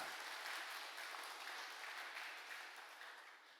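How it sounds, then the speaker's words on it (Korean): A church congregation applauds at a special dawn revival service, a dense, steady wash of many hands clapping together that holds loud and then gradually tapers off. "하나님께 영광의 박수 올려드리겠습니다"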